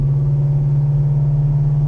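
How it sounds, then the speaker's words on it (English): A 1970 Pontiac LeMans is driving, its exhaust giving a loud, steady low drone with a pulsing rumble close by, constant and unchanging with no voices. "Get around the corner here and we'll listen to that exhaust again."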